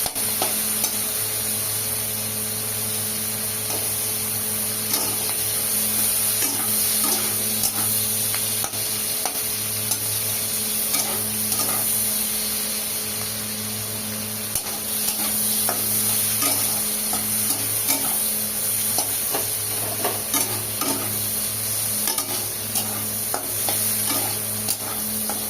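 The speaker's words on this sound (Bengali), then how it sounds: "পেঁয়াজটাকে ভালো করে ভেজে নেব।" Onion pieces frying in oil in a pan for a spicy Bengali teasel gourd dish, a steady continuous sizzle with occasional light scraping of a utensil, close and even throughout, no voices.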